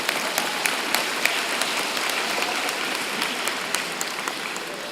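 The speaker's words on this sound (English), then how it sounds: "Yi Long is hoping we will be here to cheer them on, and we are going to do that." Audience applauding at a university spring convocation ceremony, a steady wash of many hands clapping at moderate loudness with a few sharper individual claps standing out, no talking.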